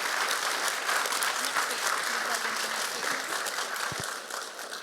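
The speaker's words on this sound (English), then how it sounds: "Can we get a round of applause for the people willing to be up here today?" A church crowd applauds panel members at a family Q&A, sustained dense clapping that holds steady and then starts to thin out, with a few voices mixed in near the end.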